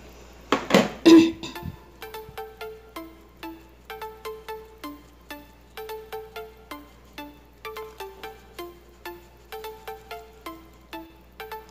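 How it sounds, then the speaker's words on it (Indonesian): A metal sieve is tapped steadily while flour is sifted for a steamed pandan sponge cake batter, giving a long run of light, rhythmic metallic clinks after a brief louder clatter. "kita masukkan tepung, kita saring"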